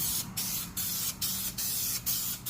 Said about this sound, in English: so spray as much as you can